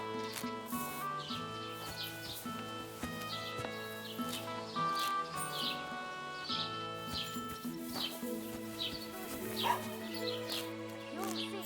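A dog barks and yips in Kingdom Come Deliverance II, short repeated barks set against busy game music and ambient birdsong throughout.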